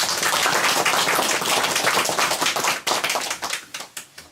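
Villagers at a New Year village gathering clap together in thanks for a retiring village head, dense and steady at first, then thinning into a few scattered claps that trail off.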